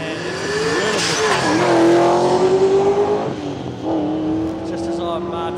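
An old Toyota Corona makes a drag run down the strip, its engine rising in pitch through the gears with shifts in between, loud and close, with a commentator talking over it.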